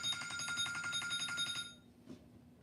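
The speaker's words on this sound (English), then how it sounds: "People calling the phone." A telephone rings with a rapid, trilling electronic bell repeated in quick pulses, fairly faint indoors. It stops abruptly partway through, followed by near silence and a small knock.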